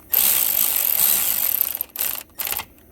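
Ratchet wrench snugging bolts on a newly installed replacement alternator, a steady close clicking run followed by two shorter bursts of ratcheting with brief pauses between.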